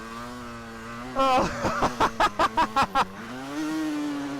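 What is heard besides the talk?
motorcycle engine revving in steep beach sand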